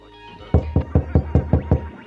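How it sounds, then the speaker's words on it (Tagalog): Knocking on a door at home: six firm, evenly spaced knocks ring out close and loud after a brief quiet moment, with no voices. "may kumatok sa pinto."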